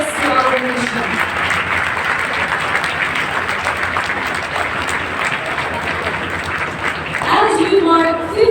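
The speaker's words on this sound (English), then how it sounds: "to be given a rousing round of applause by our DOT family" An audience at a Department of Tourism 50th anniversary ceremony gives a long, full round of applause that fills the hall, with a few voices and an amplified speaker coming in near the end.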